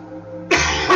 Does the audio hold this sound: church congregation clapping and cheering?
no